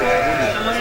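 Sheep or rams bleat at Jimetaram livestock market ahead of the Eid slaughter season, one loud, close, wavering bleat that fills the whole short moment.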